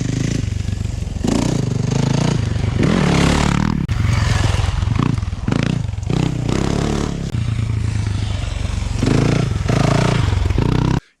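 Off-road motorcycle ridden around a series of turns, its engine loud and close throughout, rising and falling as it revs through each corner, with clattering and scraping from the dirt along the way.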